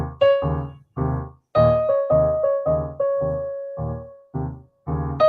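Improvised piano 12-bar blues played on the black keys only, a sequence of separate chords and notes with uneven rhythm, some held and some short, played alone with no voices.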